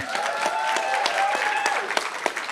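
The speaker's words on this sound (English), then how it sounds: "we can give a round of applause for that." Audience applause at an onstage event about mobilizing aid funding, a steady wash of many hands clapping with a few sharper individual claps, sustained throughout.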